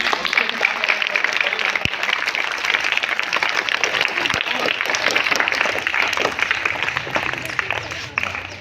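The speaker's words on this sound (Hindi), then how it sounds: "तो एक बार राणा जी की भी 2000 तालियां हो जाएं." School audience applause after a student English play, dense sustained clapping from a crowd of many hands, lasting the whole stretch.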